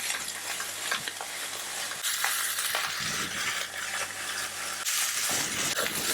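Beef fillets sear in a hot frying pan, giving a loud, steady sizzle with occasional scraping and clinks as the meat is moved.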